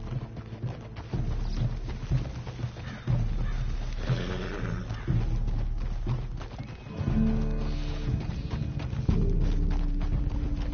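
Horse riding in the video game Red Dead Redemption, with steady rhythmic hoofbeats clip-clopping throughout, occasional neighs and whinnies, and rumbling game ambience underneath.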